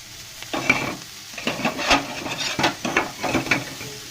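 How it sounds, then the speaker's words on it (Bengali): Prawns frying in a pan, a close sizzle with irregular bursts of scraping as they are stirred and turned, several distinct strokes over a few seconds. "তো এই চিংড়িটা এখন ভেজে নিচ্ছি ভালো করে।"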